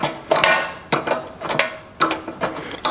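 A 10mm wrench works on a Craftsman tiller, making sharp metallic clicks and taps in an irregular series of about eight close, distinct strikes with quiet gaps between them.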